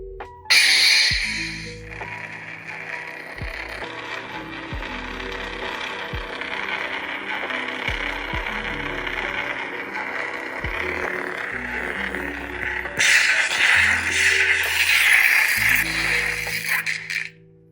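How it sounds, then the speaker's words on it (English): A lightsaber pommel unscrewed and the hilt tapped to slide out the chassis, with metallic rattling, a series of sharp knocks and clinks at irregular intervals, and a brighter jangle of loose metal parts near the end, all close up. "To remove the chassis, you just unscrew the pommel, and old school method, tap it"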